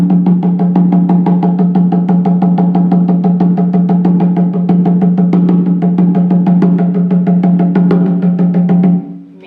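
A skin drum is struck in a fast, even beat over a steady low droning hum, loud and close throughout before stopping abruptly near the end.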